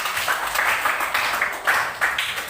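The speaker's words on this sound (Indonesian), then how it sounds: "mari kita berikan tepuk tangan" A classroom of students claps after a group presentation, a short burst of uneven, overlapping hand claps at close range with no talk over it.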